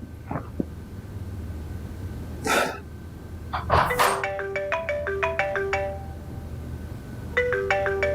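A phone ringtone chimes in a melodic series of bright electronic notes, pausing and then starting again, clear and close, with a few short knocks and bursts of rustle before it and no talking.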